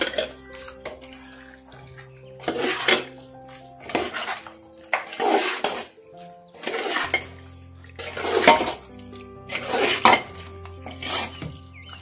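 Chicken biryani marinade is mixed by hand in a metal pot, giving repeated loud bursts of clattering and wet squelching in uneven strokes, close by, with music playing underneath.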